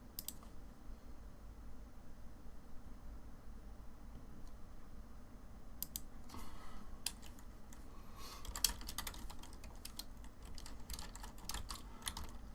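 Fast, irregular key clicks from someone typing on a computer keyboard, sparse at first and growing into dense bursts, heard close over a steady low background hum.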